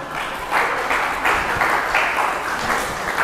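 A church congregation applauds during a Sunday sermon, with steady, fairly loud clapping in repeated swelling waves and some cheering mixed in.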